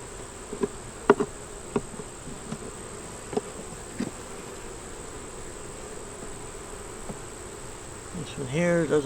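Honey bees buzz steadily around an open beehive with brood and eggs, a constant close drone marked by occasional clicks and knocks of frames being handled.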